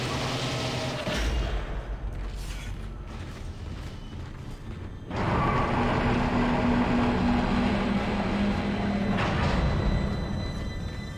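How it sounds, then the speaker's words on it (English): Tram in the Dead Space video game pulling into the flight deck station: rumbling mechanical roll with creaks, a loud surge of hum and drone arriving midway, steady and close, no talk. "Tram arriving at flight deck station."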